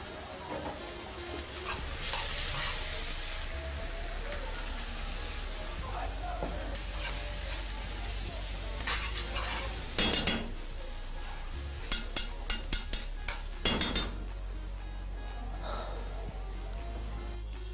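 A sorrel and sardine dish simmers and sizzles gently in a pan after broth goes in, with occasional stirring and a burst of utensil clinks against the pan near the end.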